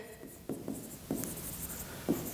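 Pen writing out a physics solution on paper, quiet scratchy strokes in short bursts separated by pauses, close and faint.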